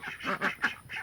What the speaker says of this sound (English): You hear the quack?